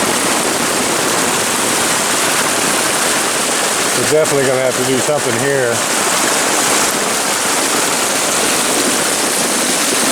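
Heavy rainwater rushes through a small ditch in a constant, loud wash, while someone speaks briefly over it midway.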